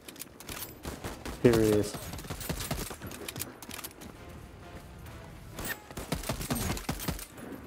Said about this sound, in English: Oh, that assault rifle pops.